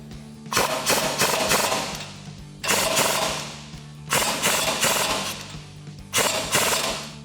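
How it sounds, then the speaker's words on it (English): A 19mm socket on a power tool tightens a castle nut on a Jeep front strut and tie rod end in four loud, rattling bursts, each lasting about a second, with short pauses between them. "now we can tighten that down with our 19mm socket"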